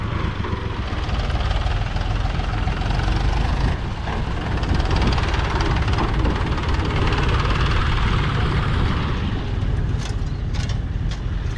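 A John Deere tractor engine runs on a farm being readied for peanut planting, a loud, steady low rumble close by that holds for the whole stretch with no talking.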